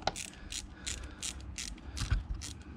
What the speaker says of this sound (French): Et là, juste, je tourne le cliquet